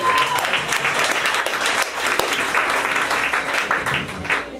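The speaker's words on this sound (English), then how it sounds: "put your hands together for Mr. Ryan Mast" A comedy club audience applauds and cheers as a comedian comes to the stage, a steady, dense wash of clapping from a full room lasting several seconds.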